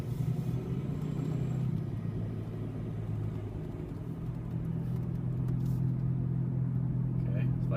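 A car with a worn front wheel bearing cruises at about 40 km/h, giving a steady low droning rumble and hum that swells slightly as it speeds up, heard from inside the cabin.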